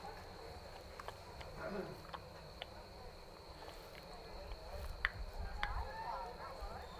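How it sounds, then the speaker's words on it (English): Crickets chirping faintly at an evening girls' varsity soccer match at a memorial field, a thin steady high trill running beneath distant scattered clicks and murmuring voices from the sidelines. "You can hear the crickets in the background."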